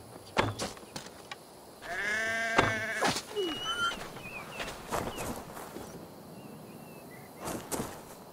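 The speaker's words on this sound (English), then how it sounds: "That sounds like a sheep, and not a happy one." A sheep in Assassin's Creed Valhalla bleats in a long wavering cry, followed by a few shorter bleats and scattered chirps over a quiet outdoor background.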